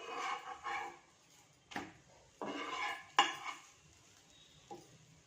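Metal utensil clinks and scrapes against a hot tawa while a chapati is flipped, several short, sharp clatters spaced irregularly, close and moderately loud with quiet gaps between.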